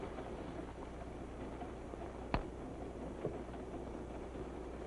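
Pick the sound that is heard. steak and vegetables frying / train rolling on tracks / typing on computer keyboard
train rolling on tracks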